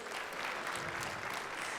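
Audience applause fills a live event room at a casino hotel, a dense steady wash of clapping, brief and fairly faint.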